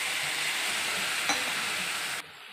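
Bitter gourd and onion frying in a pan sizzle hard after a light sprinkle of water, a loud continuous crackling hiss with a brief stir midway that cuts off abruptly near the end.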